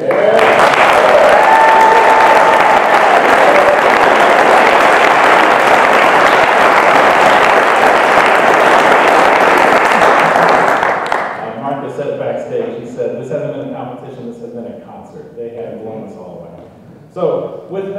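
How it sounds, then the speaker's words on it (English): Audience members at a gala concert give the finalists loud, sustained applause for about eleven seconds before the clapping drops away and a voice speaks over a quieter room. "Can we get another round of applause for these finalists?"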